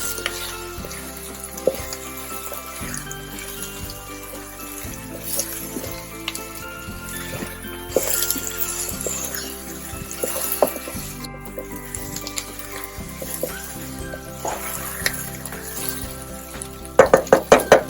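Thai eggplants for a vegan curry frying in a pan, a continuous sizzle under music, with scattered stirring clatters and a cluster of sharper clicks near the end.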